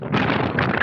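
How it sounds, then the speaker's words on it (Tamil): Strong wind gusting hard across the microphone in a snowy winter park, a loud rough rushing roar that swells and stays steady, with no voices. "இவ்வளோ காற்று எப்படி பனி வீசுதுன்னு பாருங்கள்"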